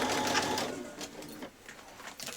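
A sewing machine makes a short burst of stitching on a seam for a child's dress, loudest at the start, then fades into softer intermittent whirring.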